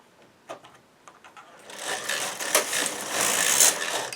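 A knitting machine's carriage sliding across a row while knitting a baby beret with automatic short rowing, starting with a few light clicks, then swelling into a steady mechanical whirring clatter.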